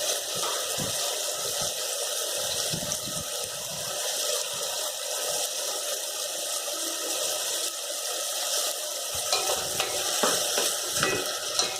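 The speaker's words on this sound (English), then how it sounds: "you can continue with the saute like this" Macaroni masala sautéing in a pan: a continuous hiss of frying with intermittent scraping stirs and soft clatter, close and fairly even, with no voices.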